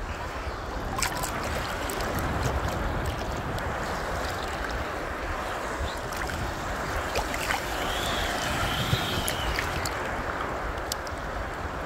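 Small waves of the Baltic Sea wash and lap close by in a steady, unbroken rush of water with a light breeze, and no one speaks.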